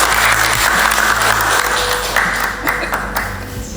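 A room of people applauds a school photography team at SMK Nasional Malang in Indonesia, loud, dense clapping that holds steady and then thins slightly in its last seconds.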